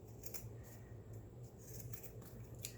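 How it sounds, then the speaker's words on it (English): Scissors trimming a strip from a snippet roll of paper, a quiet crisp snipping repeated several times in quick succession over a soft low hum. "Let me just trim a piece real quick."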